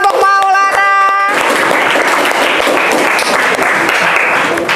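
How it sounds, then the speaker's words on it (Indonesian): Classroom audience claps for a presenting student group during a teacher-training session in Indonesia, a dense burst of applause that starts after a short tonal musical sound and continues loud and steady to the end. "silakan tepuk tangan untuk kelompok Maulana."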